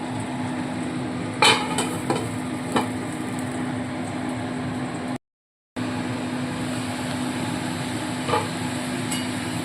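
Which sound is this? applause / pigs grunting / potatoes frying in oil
potatoes frying in oil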